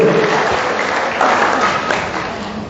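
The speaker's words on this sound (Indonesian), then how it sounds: "Beri tepuk tangan yang meriah begitu." A church congregation in Makassar bursts into loud, hearty applause, a dense burst of clapping close by that gradually fades over a few seconds.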